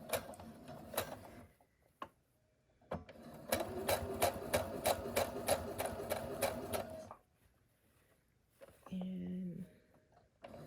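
A sewing machine runs a straight stitch along the edge of a satin bonnet in a rapid, close chatter of regular needle strokes lasting a few seconds, followed later by a shorter burst, with quiet pauses between.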